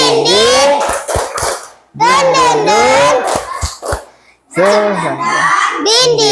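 Children chant a call-and-response spirit cheer, punctuating it with quick bursts of sharp rhythmic hand claps between the sung lines, close and loud.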